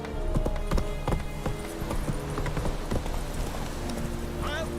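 Geralt's horse Roach in The Witcher 3, hooves clip-clopping in a steady rhythmic trot, close and clear, with someone speaking over the hoofbeats and a short whinny-like sound near the end.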